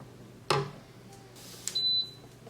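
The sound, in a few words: air fryer oven beeping when preheated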